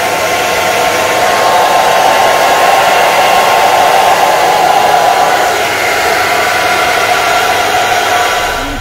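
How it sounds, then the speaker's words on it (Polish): A 1000 W concrete mixer runs on off-grid battery power, giving a steady, loud motor hum with a broad whooshing drone that continues without a break and eases slightly toward the end. "Betoniarka 1000 W. Pokazuję."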